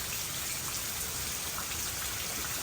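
Rain falling outside on a rainy Sunday, a dense, even hiss of drops hitting surfaces, steady and moderately loud with no voices.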